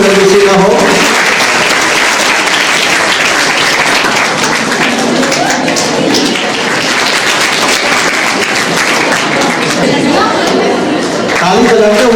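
Sustained applause from an audience at a school farewell party, dense and steady clapping filling the room for the whole stretch, with crowd chatter mixed in and voices briefly rising near the start and end.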